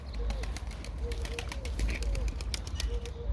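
Soft, repeated pigeon coos rise and fall against a steady low rumble of background noise, with faint chatter in the surroundings at a bird market.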